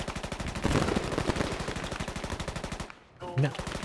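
Sustained bursts of automatic fire from an RPD machine gun in the Squad video game, a steady rapid rhythm of loud close shots that breaks off briefly near the end, then resumes with a deeper thump.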